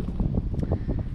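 Wind blowing steadily across a soybean field at harvest, a low rumbling gusty roar that buffets the microphone continuously and fairly loudly, with no talking.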